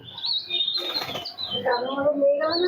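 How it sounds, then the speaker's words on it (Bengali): Breeding pigeons coo in soft, throaty bursts at close range, mixed with higher chirps and some background chatter. "এটা আমার ব্রিডিং এর পায়রা"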